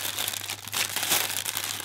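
A wrapped item in purple paper being unwrapped from an advent calendar: continuous close crinkling and rustling of paper, fairly soft and steady, with no speech.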